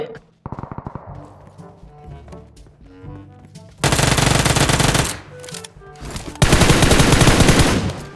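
PUBG Mobile gunfire: a short burst, scattered single shots, then two long, loud rapid-fire bursts of automatic weapons close by.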